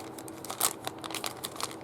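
A sealed plastic bag of sewing trims being handled, giving quiet, close crinkling in quick bursts with one sharper rustle partway through.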